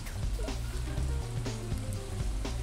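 Rain falls in the modded farming game Stardew Valley as a steady, soft hiss of drops that continues under the game's music, with no talking.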